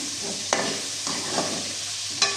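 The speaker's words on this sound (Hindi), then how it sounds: "अभी इसी ऑयल में मैंने प्याज डाल लिए हैं और इनको मैं फ्राई कर रही हूँ" Sliced onions fry in hot oil while being stirred in a pan, giving a steady sizzle with a few sharp scraping stirs, close and clear with no talking.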